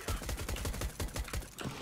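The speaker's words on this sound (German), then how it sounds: "Ich werd da drüber schießen." Rapid gunfire in an online shooter game, a dense stream of evenly spaced shots at moderate, slightly muffled loudness lasting under two seconds, no talking during it.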